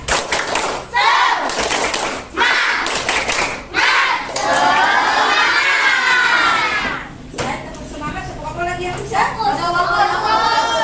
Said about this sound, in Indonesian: Tepuk semangat dulu. 1, 2, 3. Tepuk semangat.